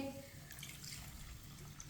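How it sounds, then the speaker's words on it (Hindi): Water poured from a glass into strained yakhni broth in a home kitchen, a steady soft splashing pour running throughout, fairly quiet. "अब पानी डालेंगे।"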